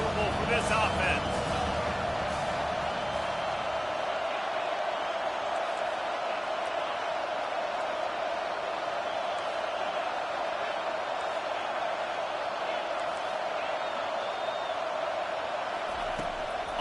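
Steady roaring stadium crowd noise in an American football video game fills the whole stretch, a constant wash under continuous commentary.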